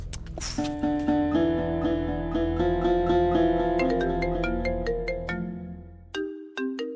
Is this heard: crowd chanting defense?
no